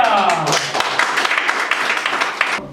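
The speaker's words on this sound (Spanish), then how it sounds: "Un aplauso así." A church congregation claps together in a brisk, dense burst of applause that is fairly close and loud, then cuts off abruptly at the end.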